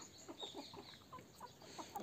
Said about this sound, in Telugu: ఇంకో కోడి కూడా ఇప్పుడు పిల్లలు చేసింది